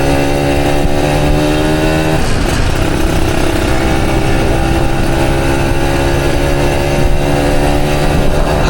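An older Kawasaki Ninja RR two-stroke motorcycle ridden on Jalan Sudirman in Palembang, its engine close and loud, holding a buzzing, steady drone throughout with only slight shifts in pitch.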